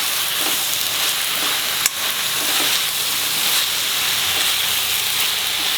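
Tender flat beans fry and get stirred in a pan, giving a loud, even, hissing sizzle throughout with one sharp utensil knock partway through.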